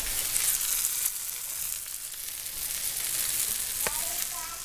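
Two steaks fry in a pan, giving a steady loud hiss and sizzle throughout, with a brief scrape or stir near the end.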